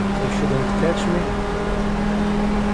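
A race car's engine drones steadily in GTR2 at Interlagos during a WEC 2015 event, a loud, sustained motor tone with a car passing, under a talking voice.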